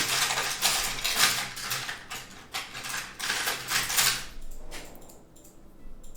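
Small scissors snipping miniature crafting material, a run of quick metallic clicks and crisp cuts in close, uneven bursts, fading to quieter handling at the end with no talk.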